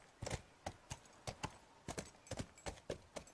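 Horse hooves clip-clop at a steady riding pace in The Last of Us, a string of about a dozen distinct, fairly close hoofbeats with no talk over them.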